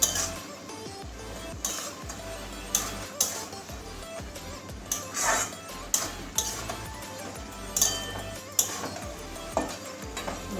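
A spoon stirs cabbage and fish curry in a pan, giving off repeated clinks and scrapes against the metal over a soft sizzle. No one speaks during it.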